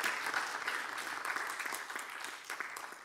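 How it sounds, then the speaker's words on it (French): An audience at a conference on African diasporas in public policy applauds a speaker, producing a dense, continuous wash of many hands clapping at moderate volume, evenly sustained throughout. "Applaudissez très fort M. Bernard Assiéné."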